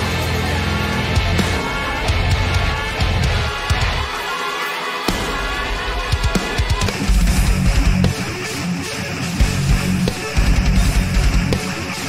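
Dense, heavy metal riffing on a low-tuned 8-string guitar, with thick sustained low chugs broken by a brief pause midway, then continuing loud and full-band alone without talk.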